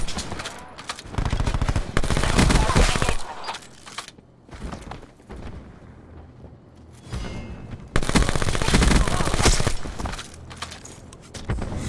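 Gunfire in the Black Ops 4 video game, loud bursts of rapid automatic fire in clusters separated by quieter stretches of mechanical clicks and ambient game noise.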